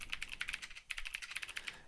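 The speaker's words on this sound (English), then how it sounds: "We type in some evidence" Quiet, quick keystrokes on a computer keyboard, a steady run of light clicks with a brief pause partway through, close and soft with no voices.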